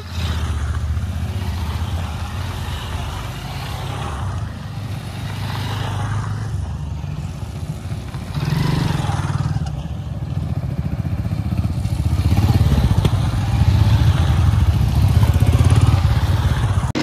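A group of twelve motorbikes riding together along a road in Odisha, their engines droning steadily and loudly with continuous road and wind rumble, swelling as the bikes pick up speed.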